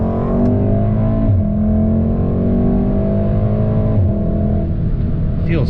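A tuned VW Golf R Mk7 pulls hard in second gear from a 40 mph roll, its engine a loud, steady, rising drone heard from inside the cabin for the whole stretch.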